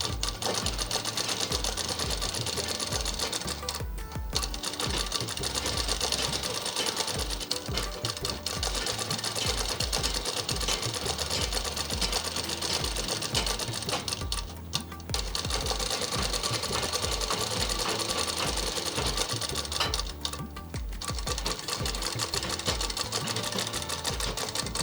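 A sewing machine runs almost without pause as it stitches the double-folded bottom hem of an umbrella frock. The close, busy mechanical whir carries through with a few brief pauses and no talk.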